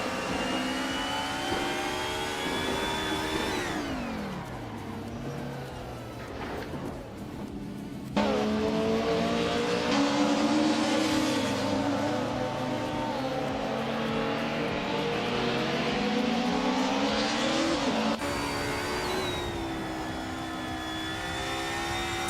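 Race car engines in a racing video game drone and rise in pitch as cars accelerate and shift, with loud sustained revving and a sudden jump in intensity partway through, alone without speech.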